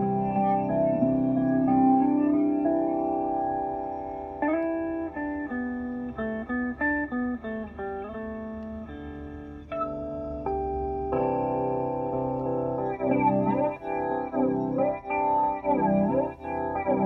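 Electric guitar played through a Chase Bliss Audio Spectre flanger pedal, notes and chords swirling with a sweeping, whooshing jet-like modulation, continuous and fairly loud.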